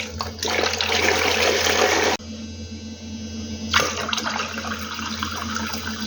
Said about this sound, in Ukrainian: І тепер залю ну, така добра тепленька водичка.